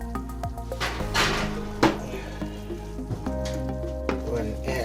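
Andouille sausage drops into a simmering seafood gumbo, with a steady sizzle and bubbling plus a few clattering knocks and a brief thud near the middle, close up.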